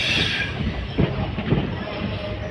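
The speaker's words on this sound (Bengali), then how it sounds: "দলগাঁও রেলওয়ে স্টেশনে আমাদের ট্রেন এসে পৌঁছেছে" A train pulling into Dalgaon railway station, rumbling close by with wheel clatter and two sharp clanks mid-way as the cars roll slowly in.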